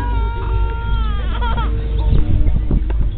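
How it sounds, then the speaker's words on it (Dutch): Several sheep bleat close by during a sheep drive, their wavering cries overlapping, with a low rumble and some shuffling noise underneath. "En dan komen de schapen aan."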